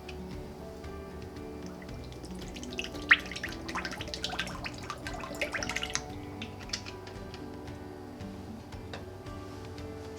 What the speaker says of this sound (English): Pour half of your bottle of diffuser base into your glass pitcher or mixing container.